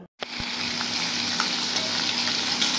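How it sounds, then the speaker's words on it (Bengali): Singhi fish dropped into hot oil in a pan, a sudden loud burst of sizzling after a brief silence that settles into a steady, close, continuous frying hiss with faint pops. "তো শিং মাছগুলো আমি একটু হালকা করে ভেজে নেব।"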